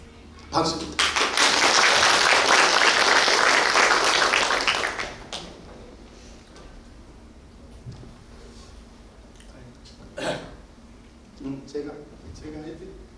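A church congregation claps during a Sunday service, a loud burst of applause lasting a few seconds before dying down. Quiet talking and small sounds follow.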